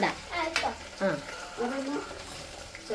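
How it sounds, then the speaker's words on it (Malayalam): A spoon stirs gooseberry pickle frying in a pan, with a soft sizzle and repeated scraping stirs. Voices are heard faintly at times over the cooking. "ഇതൊന്ന് ഇളക്കി മൂത്ത് വരട്ടെ"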